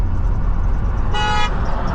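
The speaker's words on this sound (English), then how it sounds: "I don't know what you're honking at." A single short car horn toot sounds sharply over a continuous road rumble while driving along US 278 near Stone Mountain, Georgia.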